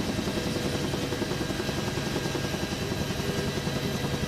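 A Huey helicopter in flight keeps up a steady loud rotor thrum with a constant engine drone, unbroken and close throughout, with no voices.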